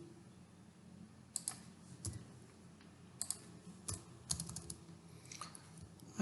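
Keys clack in quick irregular bursts on a computer keyboard as code is typed, close and fairly quiet, with short pauses between flurries and no talk.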